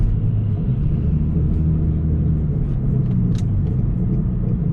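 Infiniti G35 car with worn wheel bearings grinding, a steady loud low rumble and crunchy drone of road and bearing noise throughout, with no voices.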